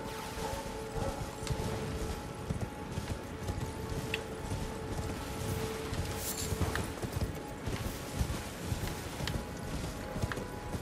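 Horse hooves galloping in Elden Ring, a fast steady clatter of hoofbeats running throughout over a faint game ambience, with no voices.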